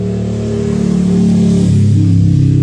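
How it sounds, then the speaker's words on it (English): Motorcycle engine passing close by outdoors, a loud steady drone that swells and shifts pitch as it goes past, with no other sound. "motorcycle just went by."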